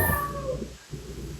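Cat meowing close by indoors in a bedroom setting, a single short cry over steady room noise.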